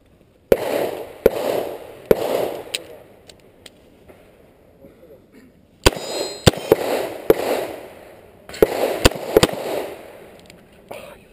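A Smith & Wesson 686 revolver fires sharp, loud shots during an IDPA match, in three bursts of several rapid reports separated by quieter handling and reloading, with faint talk in between.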